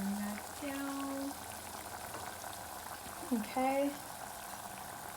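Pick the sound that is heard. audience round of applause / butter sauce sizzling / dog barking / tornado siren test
butter sauce sizzling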